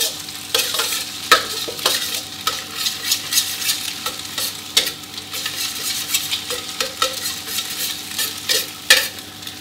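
Eggs with chopped garlic stir-fried over medium heat in a pan, a steady sizzle broken by repeated scraping and clacking strokes of a spatula against the pan, close and lively with no talking.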